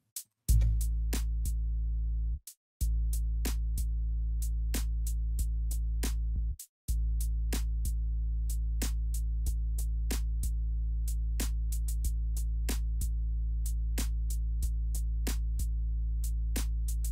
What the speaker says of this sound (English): The hi-hats are pretty loud,